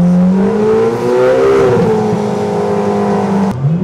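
Ferrari 430 Challenge race car engine revs loudly and close by, rising and falling in pitch over a few seconds before cutting off sharply into a fresh rev.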